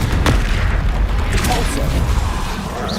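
A Confringo spell blasts in Hogwarts Legacy gameplay, a loud booming explosion with rumbling low impact and crackling debris, mixed with game effects.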